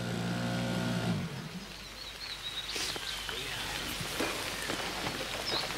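Steady rain falls outdoors near water, a broad continuous patter with a faint bird call and brief chatter in the background, following a sustained low musical tone at the start.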